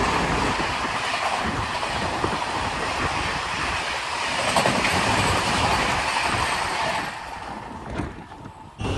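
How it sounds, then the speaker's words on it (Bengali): The 13054 down Radhikapur–Howrah Kulik Express rushes past at speed: a loud, steady rumble with rhythmic clickety-clack of wheels over rail joints, dropping away abruptly near the end. "সামনে থেকে দ্রুতগতিতে আসছে 13054 ডাউন রাধিকাপুর হাওড়া কুলিক এক্সপ্রেস"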